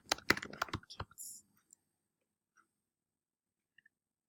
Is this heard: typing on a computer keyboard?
yes